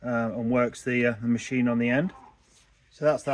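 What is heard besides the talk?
No everyday noises stand out.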